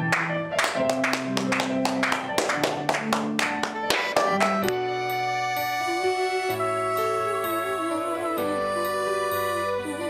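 A church congregation claps in praise, a quick burst of loud rhythmic claps over sustained organ-like chords that give way to held musical notes.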